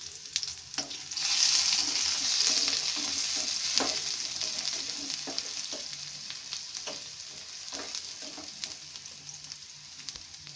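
Onion frying in a pan over lowered heat for soupy noodles, a soft hiss with a brighter burst of sizzle as it goes in, then intermittent stirring taps and scrapes.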